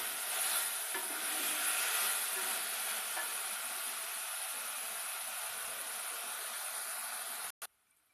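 Onions with masala stir and sizzle in a pan for mushroom pulao, a continuous hissing fry with faint scraping, steady and close, ending with a sudden cutoff and a brief knock.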